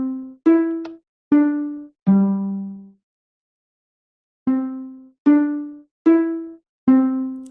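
The Five Nights at Freddy's 6 AM chime played on Minecraft note blocks: a clear bell-like tune of eight plucked tones, four, a pause, then four more, evenly spaced and alone.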